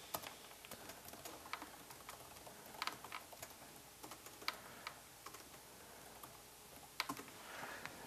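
Soft, irregular clicking of keys being typed on a computer keyboard, close by and fairly quiet, with brief pauses between bursts.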